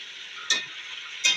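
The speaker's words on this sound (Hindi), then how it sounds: "तो चिकन हमारा ब्राउन हो रहा है" Chicken pieces sizzling steadily in a hot pan while browning for a korma, a soft continuous fry broken twice by brief scraping stirs.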